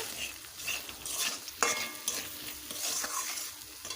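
Turmeric and Kashmiri chilli powder sautéing in a pan for a vegetarian banana-flower dish, with soft sizzling and scraping stirs and a sharper knock of the spoon midway, close and fairly quiet.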